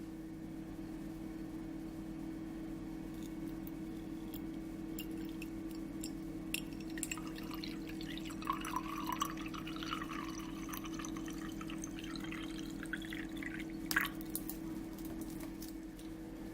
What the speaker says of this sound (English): we're going to put some water into this little pot